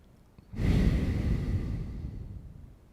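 One long, deep breath is drawn and released close to the microphone, starting abruptly after a short silence and tapering off slowly over a couple of seconds.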